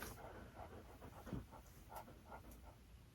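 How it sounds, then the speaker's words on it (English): A dog pants quietly in a room, a steady run of short rhythmic breaths over faint background noise. "you're panting"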